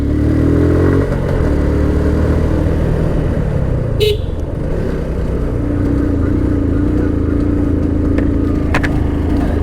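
A Suzuki Gixxer carbureted motorcycle, straining and sputtering as it runs low on fuel, drones loudly and steadily in traffic, with a sharp horn toot partway through and other vehicles passing nearby.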